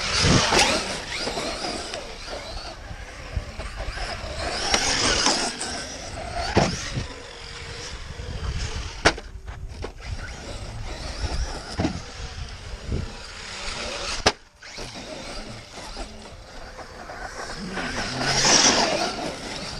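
A Traxxas Maxx V2 RC car on stock tires drives outdoors, its electric motor whining and revving in fluctuating bursts amid gravelly tire noise, with a couple of brief dropouts.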